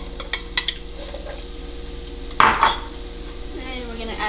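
Onions frying in butter and olive oil in a pan, a steady low sizzle with a few light clinks of utensils, then a sudden louder burst of crackling as more goes in, settling back to a quieter fry.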